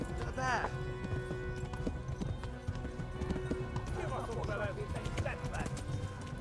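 A horse gallops in the video game Kingdom Come: Deliverance, with steady clip-clopping hooves and a brief whinny near the start, while a player talks excitedly over the action.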